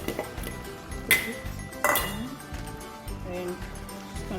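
Spoon clinking against a pot while egusi soup with ugu leaves is stirred, a few sharp metallic clinks and scrapes over quiet kitchen background, close and moderately loud.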